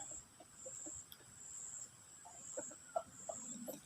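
Fighting cocks kept at a farm field give faint, scattered clucks and short calls at a distance over a quiet outdoor backdrop with a steady high insect whine.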